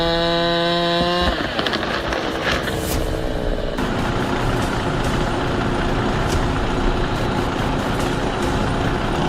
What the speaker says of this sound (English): David Hall's 1972 Kenworth is working hard pulling a three-piece load of wood.